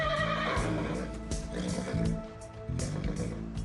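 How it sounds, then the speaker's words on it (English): A horse led out of a stall at an animal rescue gives loud neighs and whinnies close by, with shuffling hoof sounds in the background. "Another horse is led out of a stall."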